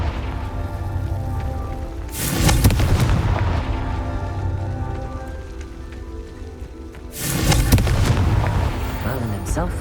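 Two bursts of a Confringo fire-spell explosion in the Hogwarts Legacy video game, each a loud roaring blast that swells and then decays, set over a steady game background.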